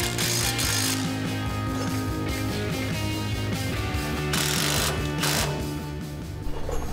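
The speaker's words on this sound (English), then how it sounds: "I'm gonna go ahead and torque all the bolts" A torque wrench ratchets in rapid, continuous clicks while suspension bolts are tightened on a Toyota Tacoma truck. The sound is close and mechanical and runs without pause, with no speech.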